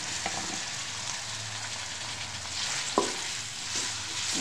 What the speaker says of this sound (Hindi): प्याज को जो है हम हल्का ब्राउन करेंगे